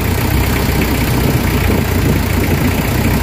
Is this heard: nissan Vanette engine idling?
yes